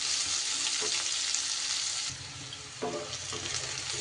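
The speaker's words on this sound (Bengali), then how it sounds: "পেঁয়াজ আর রসুন লাল লাল করে ভাজা হয়ে গেলে" Onion and garlic frying in oil in a pan for a Bengali brinjal dish, a steady dense sizzle close up throughout, with a few stirring scrapes and a slight drop in intensity midway.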